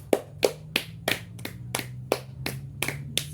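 A classroom group claps in time, about ten sharp, evenly spaced claps in quick succession over a low steady hum, with no talking.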